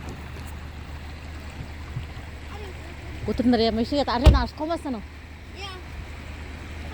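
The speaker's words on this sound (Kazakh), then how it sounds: "Судың қарқыны қатты келіп жатыр." A strong flood current rushes steadily along a river near Atyrau, a continuous low wash of water heard beneath people talking up close.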